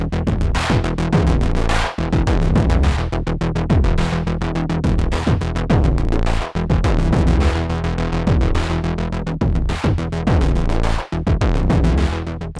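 A synth bass sidechained to a steady kick drum, its sub low end ducking out on each beat and swelling back between hits in a continuous funk groove.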